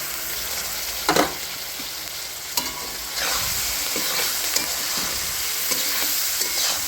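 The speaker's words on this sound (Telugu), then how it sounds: "ఇప్పుడు పచ్చెనపప్పు వేస్తున్నానండి" Boiled chana dal sizzles loudly in a hot pan for a curry, a dense steady frying hiss broken by several scraping stirs of a spoon, with no talk.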